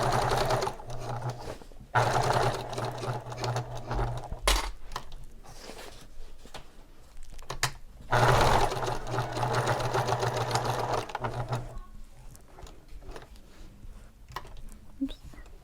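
A sewing machine stitches a framed handbag purse in short bursts of steady mechanical whirring, separated by pauses and small clinks of handling, with a voice speaking softly between runs.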